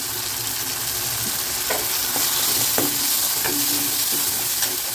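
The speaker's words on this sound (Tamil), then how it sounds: "தக்காளியும் கொஞ்சம் வதங்கிடுச்சு கொஞ்சமாக மஞ்சள்தூள் போட்டுக்கலாம்" Tomatoes with a pinch of turmeric are sautéing in a pan, giving a steady hissing sizzle broken by a few short spoon scrapes and stirs.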